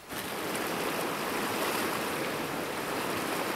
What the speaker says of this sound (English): The hunting party crosses one of the many tributaries of the river Doyang.